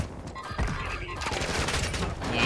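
Dense, loud bursts of overlapping gunshots in a Call of Duty MW2/Warzone match, building into a continuous fusillade. Players talk over the fire.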